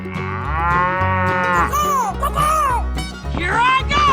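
A cow in a 3D animal slide game lets out loud, drawn-out electronic moos, several in a row with bending pitch, close and over a busy game backdrop.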